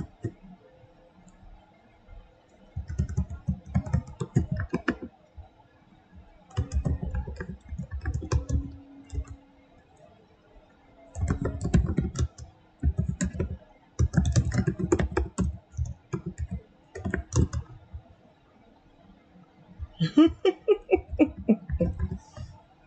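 Loud typing on a computer keyboard comes in bursts of rapid clicks, separated by short quiet pauses and repeated over about twenty seconds, close to the mic.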